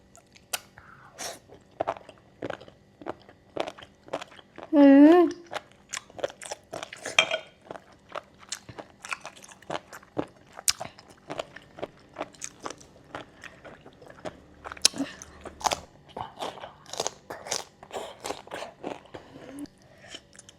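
Someone eats blanched jellyfish with dipping sauce, close to the microphone. Crisp bites and crunchy chewing repeat steadily throughout, with a few clinks of utensils and a brief vocal sound in between.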